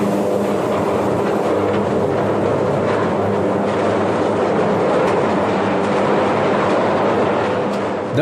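Heavy train wagons rolling on rails after the locomotive has stopped, a dense, steady low rumble with grinding metallic texture that stays loud and continuous throughout.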